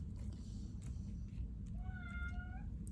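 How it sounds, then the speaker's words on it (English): A cat gives a single clear meow, rising then falling, over a steady low background hum in an otherwise quiet room. "You hear my cat?"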